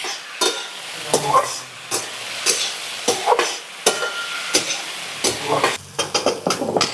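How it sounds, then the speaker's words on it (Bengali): Potato, semolina and cornflour veg cutlet mixture frying in a pan, with repeated scraping stirring strokes roughly every half second over a soft sizzle, close and fairly loud. "একটু নাড়াচাড়া করে দেবেন ফ্রাই করে দেবেন"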